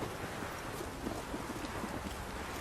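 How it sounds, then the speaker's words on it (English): Storm in The Witcher 3 video game, a dense wash of rain with blustery wind and low rumbling thunder, constant and enveloping at moderate level. "A storm, damn it."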